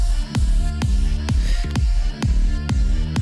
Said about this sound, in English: It sounds a lot less focused because of the detuned sound.